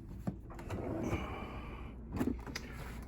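Craft room cabinet drawer near the bottom of a cabinet being opened, a faint sliding rumble with a couple of soft knocks and a bump near the end, close and quiet, no talking.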